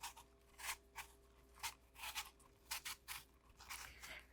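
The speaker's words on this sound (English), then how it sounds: "So we're gonna start by peeling an apple." A Granny Smith apple being peeled by hand, heard as a quiet series of short scraping strokes, roughly a dozen, at an uneven rhythm against a faint hum, with no talking.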